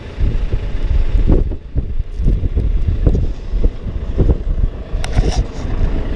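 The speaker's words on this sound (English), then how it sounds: "cutting through with this little old bitty snowblower" A little old snowblower cuts through nor'easter drifts on a windy day, its engine drone buried under loud gusting wind buffeting the microphone in uneven bursts.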